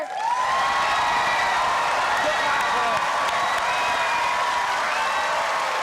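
Audience at a school event in Uttaradit cheering for three competing schools, loud sustained applause and crowd roar with whoops, filling the whole stretch without a break.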